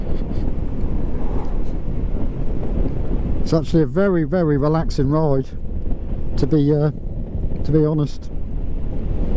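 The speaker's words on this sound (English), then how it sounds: "It's quite windy today." Steady wind roar buffets the microphone throughout while riding a 2022 Honda Forza 350 motor scooter on a windy day, with a person talking over it partway through.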